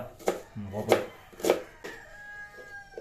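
A knife chops an onion on a cutting board while making carrot thoran. Four crisp, close thuds fall about half a second apart against a quiet background, and a voice speaks between them.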